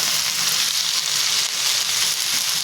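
Drumstick (shevga) leaves roasting in a pan give a dense, even hiss, a steady close crackle like light rain that holds for the whole stretch with no pauses and no voices.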